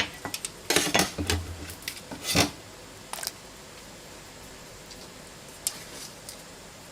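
Several clinks and clatters of objects dropped into a metal pot, clustered in the first few seconds, then quiet room tone with a few faint taps.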